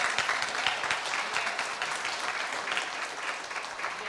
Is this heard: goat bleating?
no